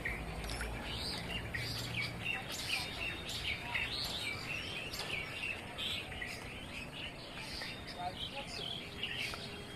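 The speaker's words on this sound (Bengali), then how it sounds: "কি সুন্দর এই পাখির আওয়াজ, ওখানে পাখি।" Birds chirp and tweet repeatedly in a quiet village, their short bright calls scattered across the whole stretch at moderate distance, with a voice occasionally speaking over a soft outdoor background.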